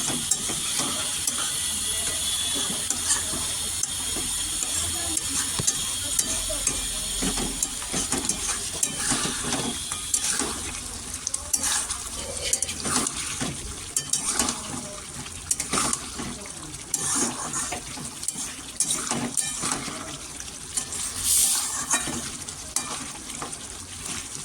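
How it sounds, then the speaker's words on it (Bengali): Chicken for a green chicken curry frying and simmering in a pan, with a continuous sizzle and bubbling broken by repeated scraping stirs throughout, close and unbroken by speech. "দেখুন বন্ধুরা, মাংস একদম ফুটছে দেখুন।"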